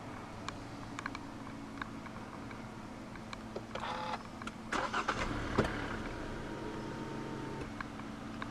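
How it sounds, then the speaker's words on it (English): A 2013 Kia Cerato 2.0 is started with its push button: a few soft clicks, then the engine cranks and catches midway and settles into a low, steady idle heard close up. "Put your foot on the brake and press the start button to the right of the steering wheel."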